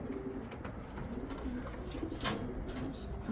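Racing pigeons coo softly in a loft, low repeated throaty calls close by, with faint rustling and a brief higher chirp amid the steady background.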